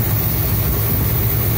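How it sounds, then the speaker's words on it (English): A 1975 Cadillac Fleetwood engine idles steadily with a low, even rumble that stays loud and constant throughout. The engine is leaking oil. "I'm just idling it, monitoring it for the last about 5 minutes or so."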